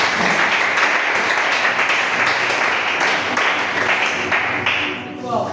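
A church congregation applauds and acclaims the Lord during a sermon, with sustained, loud, close clapping from many hands and cheering voices mixed in.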